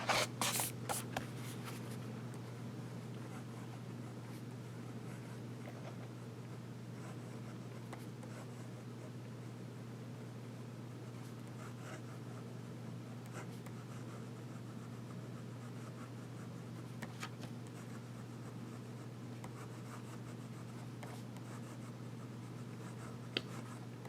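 Fine steel nib of a PenBBS 323 fountain pen writing on paper, a faint continuous scratchy rustle of strokes over a low steady room hum, with no talking.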